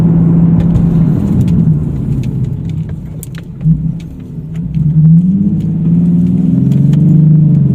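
A Nissan 370z with new front brake pads and rotors brakes hard during bedding in, a steady close engine and road rumble that dips briefly mid-run as the car slows, then builds again.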